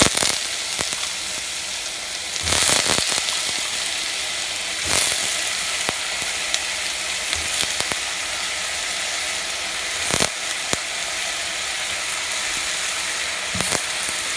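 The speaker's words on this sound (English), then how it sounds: "It has been frying for a minute, so let's add our eggplant now." Steady loud sizzling of eggplant frying in hot oil, with occasional sharp clicks and scrapes over the constant hiss.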